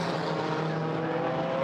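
GT4 race cars circulating at Brands Hatch during qualifying, a steady loud engine drone holding a constant pitch, distant and continuous with no voices.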